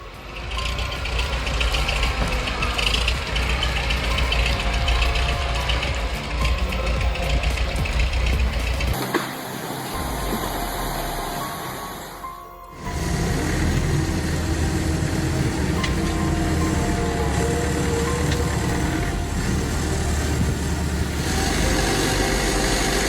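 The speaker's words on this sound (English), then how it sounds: "Universal 651 crossing the river with a full load." A Universal 651 tractor engine drones steadily while hauling a full forestry load across a river, loud and close, with a brief drop and gap partway through before the rumble resumes.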